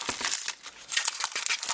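Plastic packaging around a Sony BD-RE XL 100GB disc is crinkled and torn open close by. The rustling comes in quick, irregular bursts for under two seconds.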